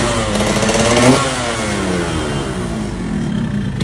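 A 2008 Honda Mega Pro Primus motorcycle engine runs steadily up close, a smooth idle with a slight rise in revs near the start, and no one speaks.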